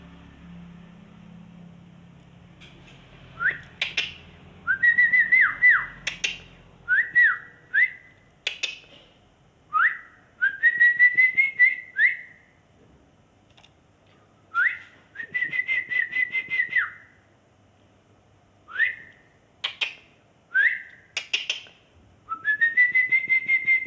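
A male white-rumped shama (murai batu) sings in a series of bright, repeated whistled phrases, clear and fairly close, with short pauses between bursts and a faint low rumble at the start.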